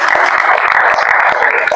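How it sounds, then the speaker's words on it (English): A classroom audience claps for a student who has just solved a dimensional analysis problem, a dense, steady patter of hands held at an even level for nearly two seconds. "Please clap for him."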